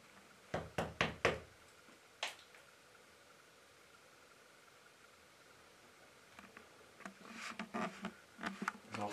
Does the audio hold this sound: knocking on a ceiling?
yes